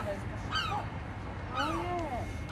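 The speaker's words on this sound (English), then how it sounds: "I think there's some seagulls wanting to have a say." Seagulls calling near a castle harbour in North Wales, two bursts of squawking cries, one early and a longer, layered one later, over a low background rumble.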